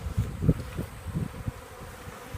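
Honeybees buzz around a hive feeder during a package installation, a close, uneven droning hum with soft bumps and rustles from handling the hive.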